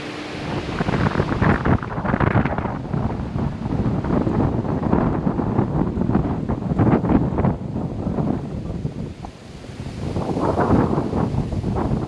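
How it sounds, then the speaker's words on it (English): Steady strong wind at Walt Disney World's Grand Floridian resort buffets the microphone, a continuous rumbling roar that swells and dips over several seconds with no voices. "Very windy today."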